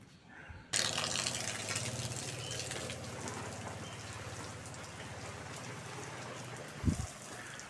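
Water splashes steadily onto the fronds of an untended banana plant, starting abruptly and continuing as a dense pattering and rushing close by, with a brief bump near the end.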